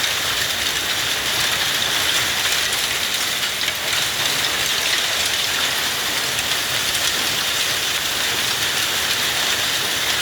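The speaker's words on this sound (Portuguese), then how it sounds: "Essa é a verdadeira chuva de granizo, hein?" Hail falls in a heavy storm as a dense, steady patter and hiss of ice striking surfaces, continuous and even throughout with no voices.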